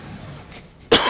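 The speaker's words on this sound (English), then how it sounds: "oops, sorry, I got a cough" A single sharp, close cough bursts out near the end, after a stretch of quiet room tone.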